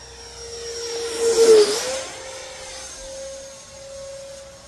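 A Freewing J10A 90mm electric ducted-fan RC delta jet makes a loud whooshing pass that rises to a peak, then a steady high whine continues as it flies on, with no voices.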